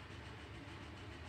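Train on a rail route in the factory-building game Captain of Industry: a steady low rumble with faint rolling texture, continuous and quiet, with no voices.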